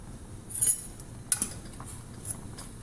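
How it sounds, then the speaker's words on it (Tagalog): Egg noodles stirred in a boiling cooking pot, with a few soft, scattered clinks of a utensil against the pot over a quiet background, no voices. "Haluin natin para sabay-sabay ang pagkaluto."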